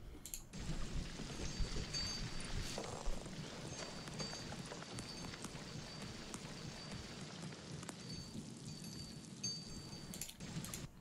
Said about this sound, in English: I see that it's water dripping down.